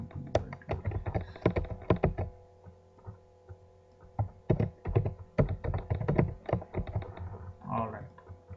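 Keys of a computer keyboard clatter in quick bursts of close, crisp taps while code is written, with a pause mid-way before the typing resumes, and a brief voice near the end.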